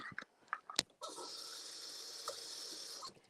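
Water pours steadily for about two seconds after a few soft clinks and knocks, fairly quiet and close.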